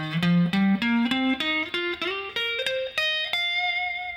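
Electric guitar climbing an expanded pentatonic scale shape in a blues-rock lead style, about a dozen clean single notes picked one by one in steady rhythm, each stepping higher, ending on a held top note.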